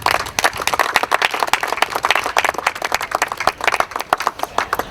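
Sustained audience applause with dense, steady clapping at a ceremony honouring guests, loud and continuous throughout with no voices on top.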